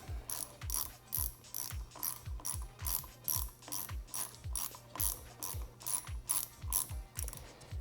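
A ratchet tool tightens the lever pivot bolt nut on a 2016+ Yamaha XSR900 fitted with Womet-Tech EVO levers. About two dozen quick, evenly spaced ratcheting clicks come in rapid back-and-forth strokes, close and crisp, with no speech.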